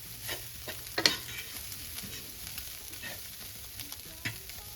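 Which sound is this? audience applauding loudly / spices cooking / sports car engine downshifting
spices cooking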